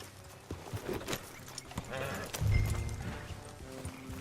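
A horse in the Red Dead Redemption 2 video game sets off, with a few hoof clops and tack jingling amid game noise and a brief low rumble, fairly close and short.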